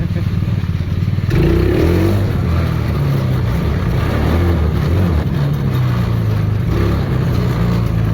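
A modified mini jeep engine runs loudly up close as the small vehicle drives around, a steady buzzing, rattling drone with shifts in pitch as it revs and moves.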